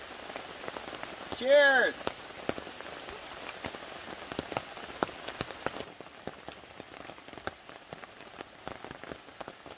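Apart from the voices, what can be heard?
rain falling on a forest camp tarp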